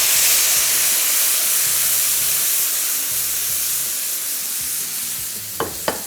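Onions frying in a pan for malai kofta, a steady close sizzle and hiss running throughout with a few brief utensil clicks near the end.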